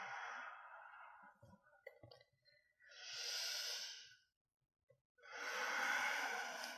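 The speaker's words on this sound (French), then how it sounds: "Longue respiration." Long, slow breaths drawn and released during a morning yoga stretch, with three deep airy breaths close to the ear separated by quiet pauses, and no speech over them.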